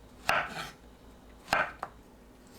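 A knife slices a banana into pieces about 0.6 to 0.8 cm thick on a cutting board, giving three soft, close taps spaced unevenly apart against quiet room tone.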